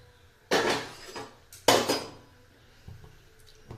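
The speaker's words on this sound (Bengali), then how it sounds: "এখন আমি ঢাকা খুলে নিচ্ছি গ্যাসটাকে অফ করে দিচ্ছি" Metal lid lifted off a cooking pot of stuffed rice-cake pitha, two sharp clattering clanks about a second apart, close, followed by a few faint knocks in a quiet kitchen.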